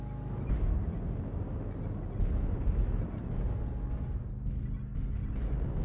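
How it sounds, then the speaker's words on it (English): Artillery strike in MechWarrior Online: deep rumbling booms rolling continuously, low and heavy, with several swells of blast energy. "Targeting us with satellites and artillery."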